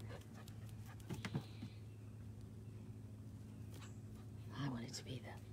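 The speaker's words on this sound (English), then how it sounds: "Here's the Doberman." A Doberman pants softly in rapid, steady breaths, quiet and close, with a faint whimper and low murmured voices nearby.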